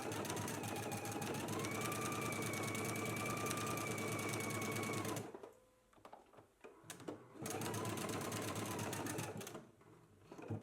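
Sewing machine stitching buttonholes on a sleeve cuff, a rapid close mechanical whir running for several seconds, stopping with faint handling clicks, then resuming.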